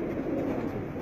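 Champion pigeons on a rooftop coo in a low, soft, continuous murmur up close, with no talking over them.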